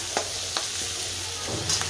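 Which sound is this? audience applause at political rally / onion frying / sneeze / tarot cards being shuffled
onion frying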